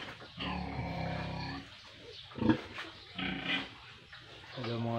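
Pigs on a farm grunt and squeal in bursts close by, mixed with speech-like voices and some growly vocal noise.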